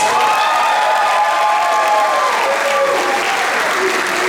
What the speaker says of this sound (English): give Dr. Edwards a round of applause.